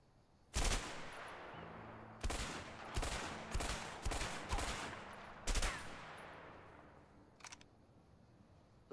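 Gunshots ring out in the video game A Way Out, about half a dozen loud, sharp single reports spaced irregularly by a second or more, each with a short echoing tail over quiet background ambience, plus one fainter crack near the end.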